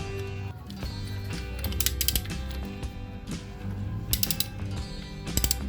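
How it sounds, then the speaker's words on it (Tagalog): Close mechanical ratcheting from a 21mm extension ratchet socket wrench loosening the spark plug on a Yamaha Aerox V2 scooter, with bursts of rapid clicks between steadier stretches of turning. "Kaya kailangan natin ng extension na ratchet socket wrench na 21mm."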